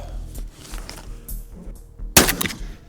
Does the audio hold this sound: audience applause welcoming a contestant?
no